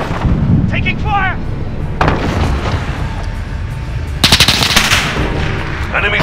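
Automatic and single gunfire bursts in a Modern Warfare 2019 multiplayer Domination match on the Piccadilly map, sharp repeated cracks over busy battle noise, with a heavy cluster of loud shots near the end and brief game voice callouts.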